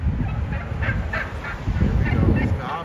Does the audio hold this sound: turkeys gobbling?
yes